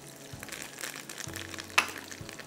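A handful of curry leaves hits hot oil with garlic already cooking, making a soft, close sizzle and crackle with one sharp pop partway through.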